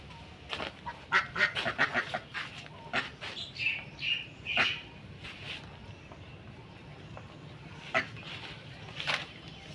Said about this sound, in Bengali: দেখেন হালকা হাঁসগুলা বের হয়েছে।